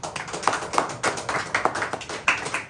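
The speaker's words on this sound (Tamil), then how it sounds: "கைத்தட்டி ஆண்டவர்." A church congregation claps hands together in worship, a series of sharp, fairly close claps in an uneven rhythm with a roomy, reverberant tone and no talk over them.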